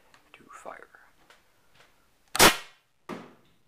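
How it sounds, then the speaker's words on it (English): A homemade Nerf rocket launcher fires a single sharp pneumatic pop with a whoosh, followed by a softer thud. Quiet whispered talk comes before the shot. "Now it's time to take a shot with the Nerf rocket launcher."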